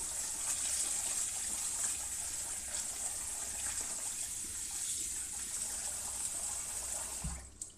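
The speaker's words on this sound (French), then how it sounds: "Eau froide. On met de l'eau." Cold water poured into a cooking pot, a continuous close splashing gush that runs steadily and stops abruptly near the end.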